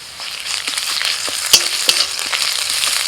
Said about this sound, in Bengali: দিয়ে দিচ্ছি আদা রসুন বাটা